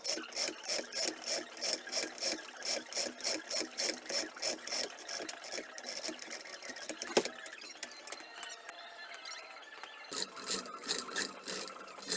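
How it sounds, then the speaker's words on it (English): Ratchet removing bolts from a casting mold, rapid rhythmic clicking in quick regular bursts, close and crisp, pausing briefly partway through before the ratcheting resumes. "In this footage, I just want to show that I'm removing the bolts."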